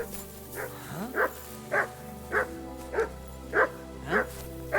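A dog in the video game Kingdom Come Deliverance II gives a steady series of about seven evenly spaced barks over a continuous low in-game ambience, with no talking.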